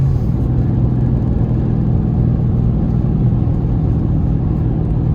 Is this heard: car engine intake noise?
yes